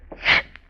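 A single short sneeze in a radio drama scene, close and isolated, with a quick intake of breath just before it.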